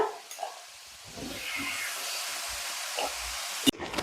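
Ingredients briefly sautéed in hot oil for a Kerala-style peanut butter pickle, giving a steady soft sizzle and hiss that runs through, with a few light stirring clatters and a sharp clink near the end.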